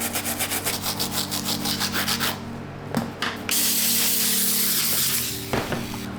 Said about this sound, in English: All right, so basically after scrubbing, as you all can see, there is visibly no dirt at all.